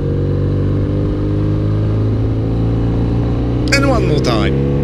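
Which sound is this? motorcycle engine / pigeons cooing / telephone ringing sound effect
motorcycle engine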